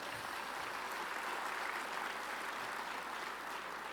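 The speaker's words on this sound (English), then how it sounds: "Why don't we give a round of applause to them?" A dinner crowd at the Iowa GOP Lincoln Dinner applauds for police officers and other men and women in uniform, a steady, distant-sounding wash of clapping at low, even volume.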